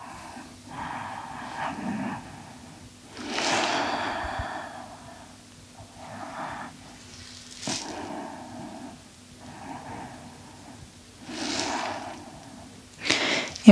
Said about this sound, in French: Encore quelques respirations profondes.